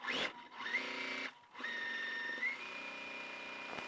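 A sewing machine stitches quilt block pieces in steady bursts with a short pause early on, the motor whirring close and fairly loud with a faint high whine over the mechanical clatter.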